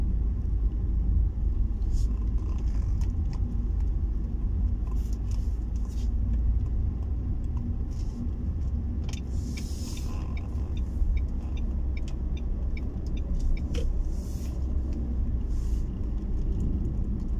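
Cars roll along a highway in a steady, close rumbling drone of engines and tires, continuous and unbroken, with a voice talking over the traffic noise.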